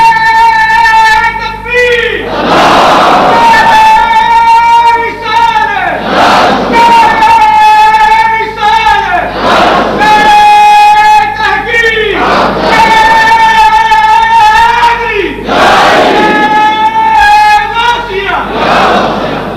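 A crowd at a Sunni religious gathering loudly chants a sequence of Islamic slogans in a call-and-response pattern, with a lead voice calling out and many voices roaring back in regular waves, each burst lasting a few seconds.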